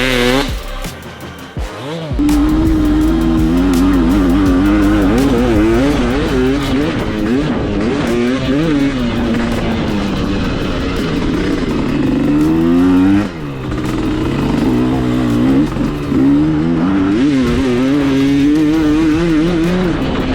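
A 250MXE AEB dirt bike with a 230 cc engine revs and accelerates hard, its pitch rising and falling through gear changes and throttle blips, loud and close throughout.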